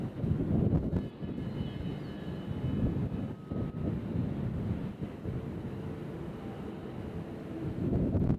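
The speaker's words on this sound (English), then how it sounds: "So we got our first Southwest taking off." A Southwest airliner takes off at Nashville International Airport, a continuous low roar heard from a distance with wind noise on the microphone.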